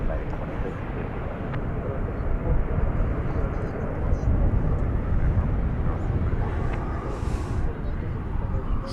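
A United airliner rolls for takeoff at DFW Airport, a broad steady roar of jet engines filling the scene with constant rumble and wind, while voices talk over it throughout.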